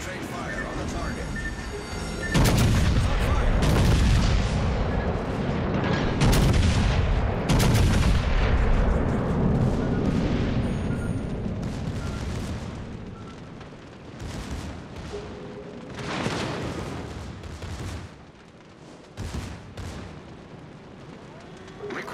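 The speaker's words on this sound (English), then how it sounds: "All stations, concentrate fire on the target." Warship guns fire in a World of Warships naval battle, with the battleship Pommern engaging USS Black and USS Baltimore; loud booming salvos and rumbling blasts come repeatedly throughout, mixed with game voice callouts.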